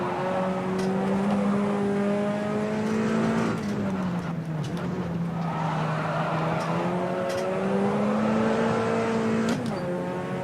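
Puma P052 race car in rFactor 2 at the Ibarra circuit, its engine roaring loudly and continuously, pitch climbing and dropping through gear changes with a brief lift around a corner before pulling hard again.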